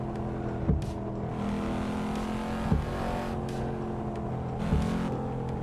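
A Cadillac race car in a racing simulator game lapping the Nordschleife, giving a steady droning engine note with brief surges from gear shifts or bumps roughly every two seconds, and no talk.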